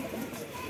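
A brief burst of low, throaty cooing comes from pigeons packed in a net at a market sale, close and steady with no pause.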